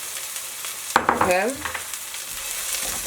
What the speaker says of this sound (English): So I'm gonna let this sizzle for a little bit